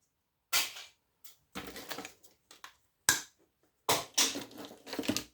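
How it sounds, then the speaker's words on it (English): Scrap brass and copper wire being cut off with sharp snipping and crunching bursts, a few isolated cuts followed by clusters of rapid clipping, close and fairly loud with quiet gaps between. "Let's go as far as you can up to it and cut the wire off."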